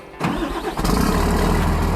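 Engine of a mechanized demining machine cranking and catching, a sudden loud start settling into a steady, close running idle.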